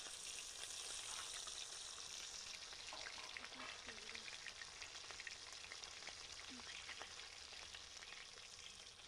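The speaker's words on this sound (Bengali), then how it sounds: "এবার আমরা মাছটা ভেজে নেব।" Marinated katla fish fries in hot oil, giving a faint, continuous hiss and crackle that holds steady throughout, with soft clinks from the pan now and then.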